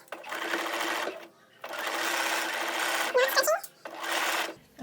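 Sewing machine fitted with an even feed foot stitching a blouse seam in three bursts of rapid buzzing separated by brief pauses, close and clear, with a short bit of handling noise between runs.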